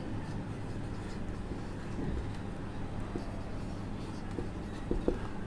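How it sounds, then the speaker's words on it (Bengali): Marker or chalk scratches faintly across a board during a chemistry lecture on chemical changes and reversible reactions, with soft strokes over a steady low room hum. "এবার আমি লিখব"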